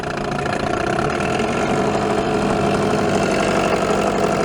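A 1987 Evinrude 3 hp outboard motor runs steadily on a lake, a loud, constant buzzing drone with a rapid mechanical chatter, close and without talk.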